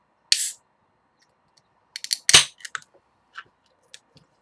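A swing-top bottle of Drake's Hopocalypse hazy double IPA opens with a sharp, close hiss-pop. About two seconds later comes a quick cluster of clicks and clanks, then a few faint, scattered taps.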